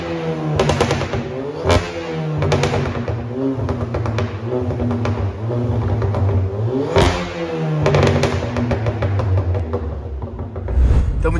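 Remapped VW Golf 1.4 TSI engine revving hard in repeated bursts, each climb ending in sharp exhaust pops and crackles on the overrun, loud and close with no talking.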